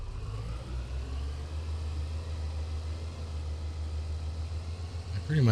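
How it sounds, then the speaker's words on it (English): An autoloader truck in Farming Simulator 22 idles with a steady low engine rumble that runs throughout, moderately loud and unchanging, with a brief bump at the very end. "we will go and get the autoloader truck and get these bales loaded up"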